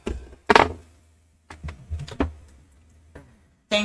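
Typing on a computer keyboard in a workshop: scattered clusters of close, crisp key clacks separated by short pauses, with no talking.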